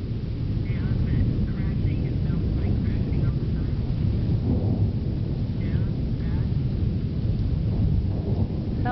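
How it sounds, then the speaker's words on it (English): Constant thunder during a storm gives a heavy, continuous low rumble that never lets up, while a person speaks faintly over it at times. "That's thunder, constant thunder."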